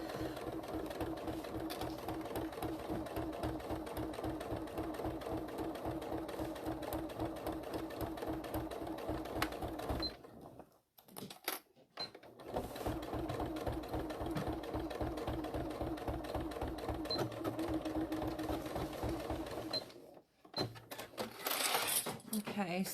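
A sewing machine runs close and steady while top stitching, its rapid mechanical chatter continuing in long stretches with a couple of short pauses.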